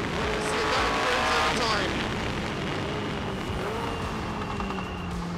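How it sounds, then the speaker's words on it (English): A Tyrrell P34 six-wheeled Formula 1 car roars loudly up close, engine note falling on deceleration with rough exhaust crackle and rumble, continuous throughout. "Beautiful crackle on deceleration."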